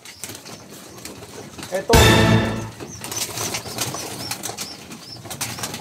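Hungry pigeons erupt in a loud, close burst of wing flapping lasting under a second, followed by softer shuffling, faint cooing and scattered bird calls, with someone speaking briefly.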